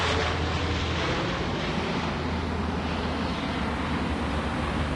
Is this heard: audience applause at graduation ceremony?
no